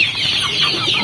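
Farm chickens cluck steadily and close by during morning feeding, a busy, continuous flock chatter with no talking.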